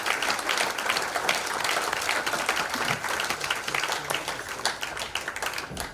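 Sustained applause from an auditorium audience at an awards ceremony, many hands clapping in a dense, steady patter that holds at an even, moderate level for several seconds.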